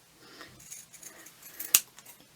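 Scissors snip through paper to shape a craft tag, giving a few quiet close cuts with one sharper snap near the end, alone in a hushed room.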